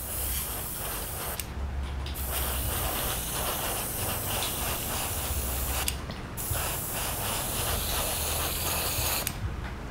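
An airbrush spraying Green Stuff World colour shift paint with a partly blocked nozzle, a continuous loud hiss broken by two or three brief sputtering cut-outs.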